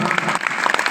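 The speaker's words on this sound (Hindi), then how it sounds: "जोरदार ताली की बौछार।" Audience applause at an open-air Hindi Manas stage programme in a Chhattisgarh village, a close, dense burst of clapping filling the whole moment with no speech over it.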